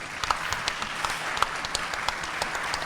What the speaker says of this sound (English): I just want to give a quick round of applause for the student athletes.